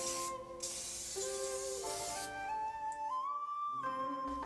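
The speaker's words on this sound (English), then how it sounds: "spray it with cooking spray." A soft hissing spray from an aerosol can of cooking spray coating a 9 by 13 pan, in a few short bursts, with faint tonal humming and whistling in the background.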